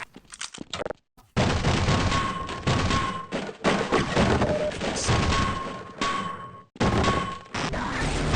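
Weapon fire in the PC shooter Half-Life, MP5 with grenade launcher: a loud, dense burst of gunfire and heavy impact crashes, broken by a couple of brief pauses, with a steady electronic tone running under parts of it.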